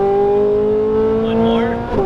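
A Ferrari 458 Italia on a racetrack pulls hard at full throttle, a loud, steady engine note that rises in pitch before a brief dip near the end as it shifts up.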